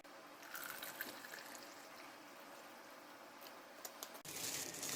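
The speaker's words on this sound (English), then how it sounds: "Add our water." Water trickles and splashes steadily into a pouch holding a 1999 MRE cherry beverage base powder, a quiet close-up pour with a brighter rush near the end.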